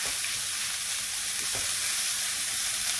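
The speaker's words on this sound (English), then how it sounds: "I'm going to fry this" Minced beef fries in olive oil in a hot pan on full heat, a constant bright sizzle with faint occasional stirring knocks and no talk.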